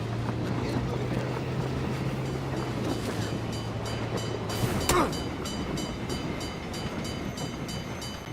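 A train rumbles steadily and continuously in the video game PUBG, a dense, close mechanical roar with a low hum that fades partway through, then a brief sharper clank.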